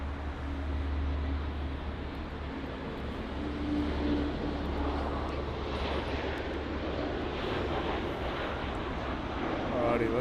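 An Airbus A340 airliner at Frankfurt Airport gives a steady, moderately distant jet engine roar that swells slightly midway and holds, with some wind buffeting on the microphone.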